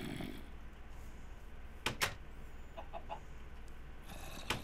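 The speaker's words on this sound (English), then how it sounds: "Chicken!" A Minecraft chicken clucking in the video game, a few short sharp clucks standing out against a quiet background hum, with faint scattered squawks near the end.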